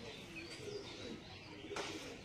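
Pigeons coo softly in the background, low and repeated, with faint chirps and light ambient noise around them.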